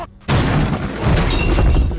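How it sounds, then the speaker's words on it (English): Heavy banging on a door in a scene from the animated fantasy series DOTA: Dragon's Blood, loud booming thuds that hit suddenly after a brief hush and roll on under a dense, reverberant background. "Should we shout for the guards, or do you think the banging is enough?"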